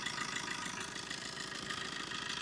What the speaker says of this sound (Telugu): ఇంజిన్ పరంగా అయితే చాలా బాగుందండి.